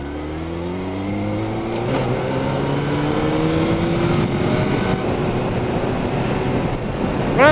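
A Honda CBR 1000 motorcycle engine hums steadily while riding, its pitch rising gradually as the bike speeds up, loud and continuous with wind noise over the whole stretch.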